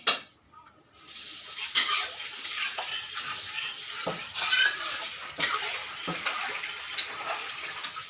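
Sesbania flowers are stir-fried in oil in a pan, giving a steady close sizzle broken by repeated scraping and tossing strokes of a spatula.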